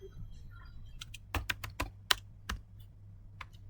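Keys clatter on a computer keyboard during network configuration work, a quick close burst of about a dozen crisp taps bunched in the middle, then a last few strokes, with no talk.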